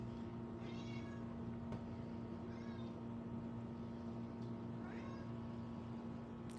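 Russell the cat lets out three faint meows, spaced a couple of seconds apart, over a steady low background hum.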